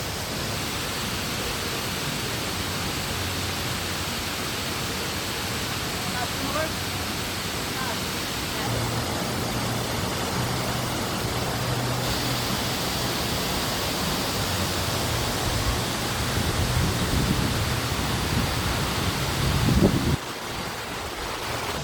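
Tinuy-an Falls in Bislig, Surigao del Sur sends up a continuous broadband rush of falling water, steady and enveloping, with a brief bump of handling noise near the end.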